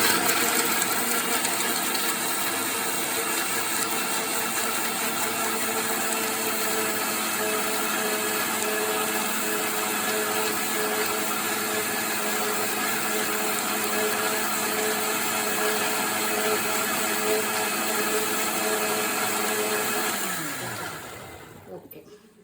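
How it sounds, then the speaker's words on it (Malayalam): A kitchen mixer grinder blending a drink runs as a loud, steady motor whine for about twenty seconds, then spins down and stops near the end. "മിക്സി ക്ലോസ് ചെയ്യാം. നമ്മൾ അടിച്ചെടുക്കാൻ പോകണം."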